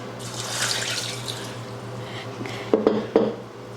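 Water poured into a container of apple cores steeping in homemade vinegar, a steady soft splashing stream with a few sharper clinks and sloshes near the end.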